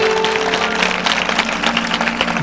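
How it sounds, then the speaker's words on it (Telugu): Congregation clapping during a Telugu church sermon, a loud, dense burst of many hands with a faint sustained tone underneath. "చప్పట్లు కొట్టండి అంతా"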